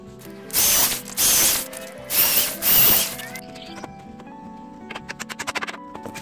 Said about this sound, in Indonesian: kita bor dulu sejenak dan kita pasang paku